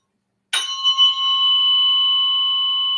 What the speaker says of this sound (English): we're waiting for that vibration in the fork to kind of ease up.